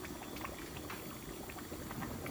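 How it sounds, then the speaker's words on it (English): Water pours steadily into a cooking pot of meat for a meat and potato curry with onions, tomatoes and green pepper. The liquid rush is continuous and close, heard alone. "Just enough water to cover the meat."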